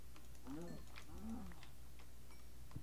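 Two low, drawn-out moos from a Minecraft cow sound close together near the start, quiet against a faint background with a few soft clicks afterward.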